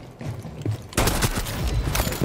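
Rapid gunfire from Glaz's designated marksman rifle in Rainbow Six Siege, a burst of loud close shots starting after a quieter lead-in and continuing in a dense, crackling volley.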